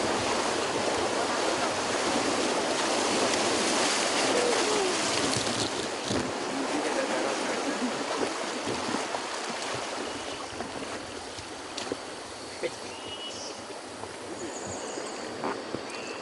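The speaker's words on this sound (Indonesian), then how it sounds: "Tantangan arung jeram mendorong semangat juang untuk bertahan tetap pada posisi di atas air, mengarungi Sungai Alas" The Alas River rushes steadily through a forested valley, a broad continuous wash of flowing water with occasional faint bird calls and brief splashes above it.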